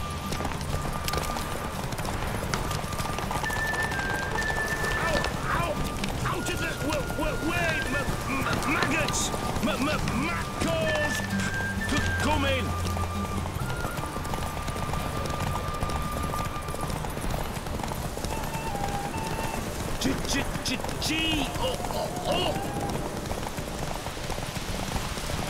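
A horse gallops in Witcher 3: Wild Hunt, with quick, steady clip-clop hoofbeats running throughout under game ambience and voices speaking.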